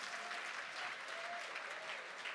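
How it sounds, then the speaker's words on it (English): A room full of auction attendees applauds after the first auction item sells, a steady wash of clapping heard from some distance and fairly faint throughout. "Ladies, a big round of applause."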